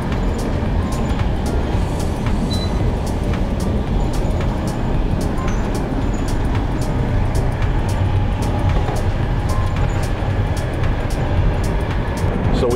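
Steady interior rumble of a high-speed train between Rome and Naples, a continuous low roar with faint periodic clicks from the tracks, no talking.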